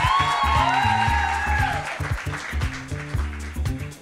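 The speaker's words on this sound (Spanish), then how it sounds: "Aplauso para las chicas" Live show audience applause with scattered clapping and whoops, played over a loud thumping bassline of music that pulses underneath throughout.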